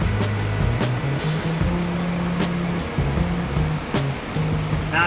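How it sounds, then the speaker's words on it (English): Fast-moving river water in Yosemite Valley rushes in a steady, loud broadband roar that fills the whole clip, with faint low tonal hum underneath and no speech. "I think this water might be moving just a bit too fast"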